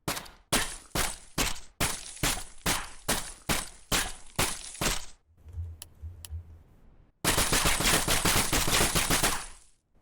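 Gunfire from a weapon in a video game still in development, with recoil: about ten evenly spaced loud single shots, a brief lull with a low hum, then a sustained rapid automatic burst.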